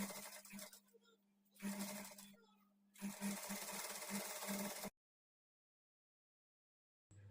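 A sewing machine stitches a blouse in three bursts of rapid, rhythmic needle clatter with a steady motor hum, close by, then stops and silence follows.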